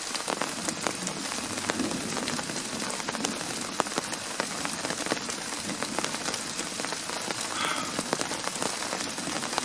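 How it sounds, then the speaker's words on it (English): Rain patters steadily on a hammock tarp during a spring thunderstorm in Florida, a dense, close, constant drumming of drops with no talking. "It's raining."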